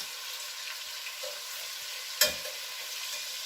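Chicken pieces for coq au vin sauté in a pan with a steady, soft sizzle throughout, broken once by a sharp clank or scrape of a utensil against the pan midway.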